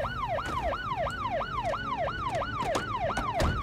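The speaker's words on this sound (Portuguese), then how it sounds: "Desliga essa sirene aí." A video game police siren from Project Zomboid wails in fast, rising-and-falling cycles, loud and steady over a low engine rumble, with no talking.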